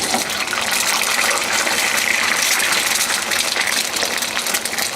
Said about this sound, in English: And now I'm gonna drop the eggs in.